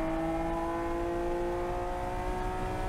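A car accelerates hard on the Barber Motorsports Park race track, a steady, loud, close engine drone with rising tonal whine heard from inside the car throughout.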